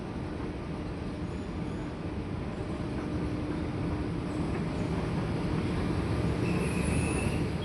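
A Mumbai metro train runs steadily, a continuous loud rumble of wheels and carriage with faint squealing, no voices.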